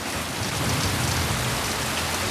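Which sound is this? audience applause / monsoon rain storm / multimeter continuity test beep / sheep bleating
monsoon rain storm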